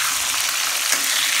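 Chili frying in a hot pan for homemade sambal goreng, a dense steady crackling sizzle of oil that stays loud and close the whole time, with no voices.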